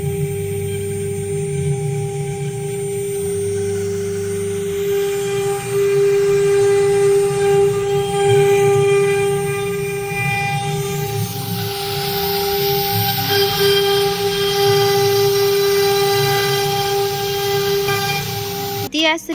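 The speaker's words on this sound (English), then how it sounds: "We start the spindle, then we start process." A CNC machine spindle runs steadily during an NC system setup, giving a sustained tonal whine with strong harmonics and a low hum, continuous throughout with some shifts in texture and voices in the background.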